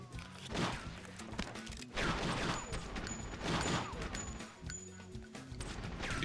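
Gunfire in True Crime: Streets of LA, scattered shots and crashing impacts in a busy game scene, rising in several loud bursts over a constant background mix.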